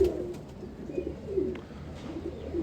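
A large male pigeon gives soft, low coos in a short repeated rhythm, close by, over a faint background hum and no talking.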